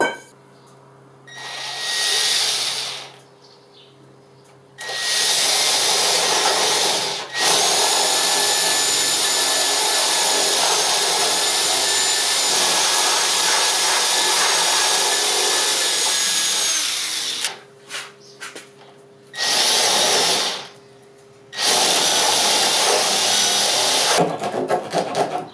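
A power drill bores holes into wood for a small forge's bellows, running in loud sustained bursts with whining pitch shifts, separated by short pauses and brief handling noises.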